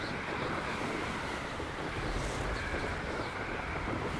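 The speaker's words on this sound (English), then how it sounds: "It's mighty windy up here." Wind blows steadily at a high point in the Hogwarts Legacy video game, a soft, continuous broadband rush with gentle swells and no voices over it.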